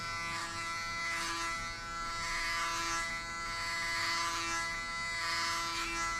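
Electric hair clippers give a buzzcut, a steady close-up buzz running without a break, with slight swells as the blades move across the scalp.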